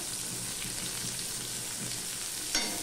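Onions fry with black cumin in a pan, producing a continuous crackling sizzle with faint stirring, then a brief sharper scrape just before the end.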